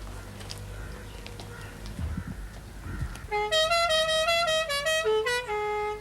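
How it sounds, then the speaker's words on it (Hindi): A car horn blares in a series of loud, sustained honks, some long and some short, following a quieter stretch of background noise. "ये कौन जाहिल है जो इतनी जोर से हॉर्न बजा रहा है?"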